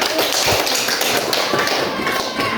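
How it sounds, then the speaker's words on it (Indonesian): A school class claps hands together in a short burst of quick, close taps and thumps that lasts a couple of seconds. "Tepuk tangan dulu."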